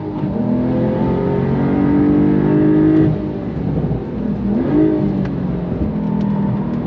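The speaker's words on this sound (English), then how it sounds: "I love hearing the turbo spooling away." A 2022 Porsche 911 GTS engine pulls hard under load, a loud, close rev with rising turbo spool, easing briefly around the midpoint before building again.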